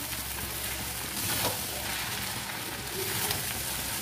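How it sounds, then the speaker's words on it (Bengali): Chicken hakka noodles frying in a hot pan, with a steady, continuous sizzle and soft scraping as they are stirred constantly, close and fairly loud throughout. "নুডলসটা তো সমানে নাড়তে হবে"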